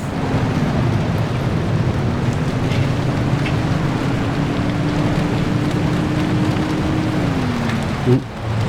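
Steady rain drums on a car while driving through the Pacific Drive video game world, a dense, even hiss with a low engine drone underneath that dips briefly near the end.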